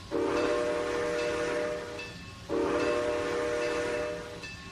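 A locomotive in the train simulator game Trainz 2019 sounds two long horn blasts as it starts to move, each a steady chord that fades out, over a low rumble of rail noise.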